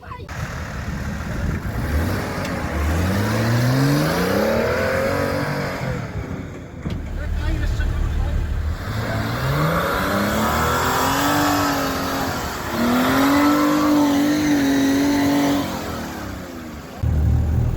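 A vehicle engine revs up and down repeatedly, rising and falling in pitch, loud and close, with brief lulls between bursts.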